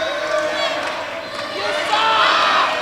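A crowd at a live wrestling event in Palatka, Florida roars and cheers continuously, with a steady wash of voices that swells toward the end, under a commentator's speech.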